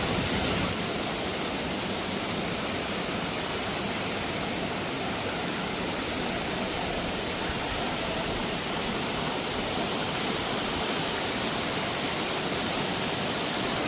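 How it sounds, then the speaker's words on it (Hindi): Rushing stream of water channelled toward a traditional water mill (gharat) in a mountain village, a loud, continuous broadband roar that stays constant throughout with no voices. "पानी की धार बहती हुई है,"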